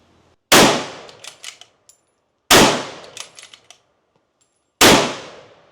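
Three loud, sharp Mauser 66 rifle shots ring out one by one at intervals of about two seconds, each followed by a decaying echo and brief clinks in between.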